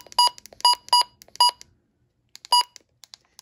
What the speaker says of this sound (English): my version 15 has lower button beeps